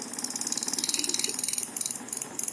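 A small AC motor with neodymium magnets spins at 1400 RPM, giving a steady rapid rattling whir with a high mechanical whine, close and moderately loud with no talk.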